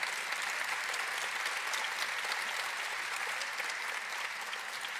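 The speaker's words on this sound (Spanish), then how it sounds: "Que se escuche nuevamente el aplauso para ellas." A dense, steady wash of crowd applause fills a postgraduate graduation ceremony hall, loud and continuous without pause.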